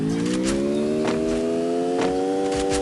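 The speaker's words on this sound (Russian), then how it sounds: "Он машину заезжает." A car engine in a video game revs and drives up close, pitch rising steadily with a few gear shifts, loud and continuous with no speech.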